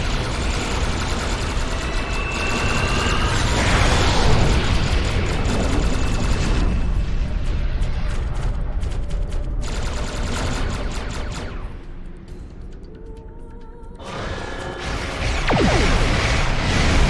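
Starship weapons firing and explosions erupt in the space combat game Star Trek Online, a dense, loud barrage of blasts and rumbling booms that dips briefly before surging again.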